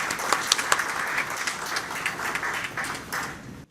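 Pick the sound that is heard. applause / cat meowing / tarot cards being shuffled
applause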